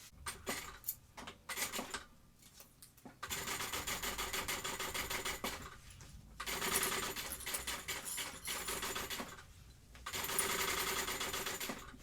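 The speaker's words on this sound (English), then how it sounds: "Then we're going to sew that at the seam allowance given in the pattern." A sewing machine stitches a vinyl seam on a backpack in three quiet runs separated by brief pauses, with some faint rattling and handling noise between them.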